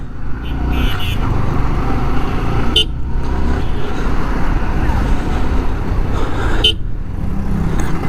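A car drives along a road after a service. A steady engine and road rumble is heard from inside, with traffic and a couple of brief horn toots passing by.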